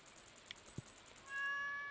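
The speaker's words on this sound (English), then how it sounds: "I offered my cat 500 rocks and they meowed" A cat meows in Stardew Valley, a short electronic meow over a soft looping game soundtrack with twinkling chimes and a sustained tone rising near the end.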